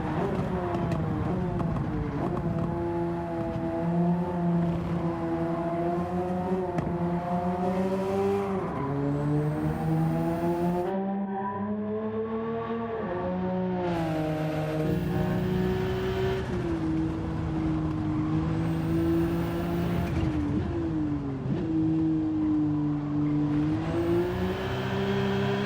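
A tuned Nissan R34 with about 500 horsepower and four-wheel drive is driven in Gran Turismo 7, its engine note rising through repeated revving climbs and dropping at gear shifts, with a faint tire squeal, continuous and up front.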